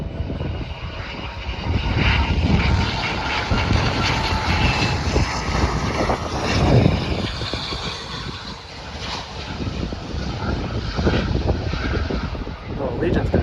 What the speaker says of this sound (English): Oh, this is a little private jet